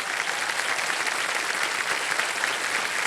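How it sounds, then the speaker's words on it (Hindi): A TV quiz show studio audience applauds in a sustained, even wash of clapping that stays loud and steady throughout, with no talk over it. "तो तालियां बज जाएं एक बार इनके लिए।"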